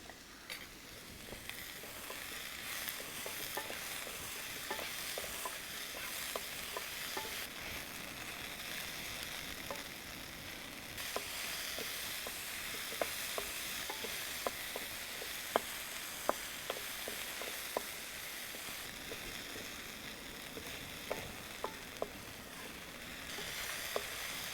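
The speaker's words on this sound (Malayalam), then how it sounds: "പുളിച്ചിക്കയിട്ട് വശക്കാം. കുറച്ച് ഉപ്പ് ചേർത്ത് കൊടുക്കാം." Bilimbi fruit sautés with salt in a pan, making a quiet, even sizzle. Small clicks and taps of stirring are scattered through it.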